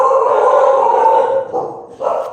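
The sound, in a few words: dogs barking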